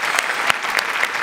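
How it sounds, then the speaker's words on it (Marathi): Loud, dense applause from a comedy show audience, continuous clapping close and full for the whole short stretch with no talk over it. "वा वा वा, जोरदार टाळ्या सगळ्यांसाठी."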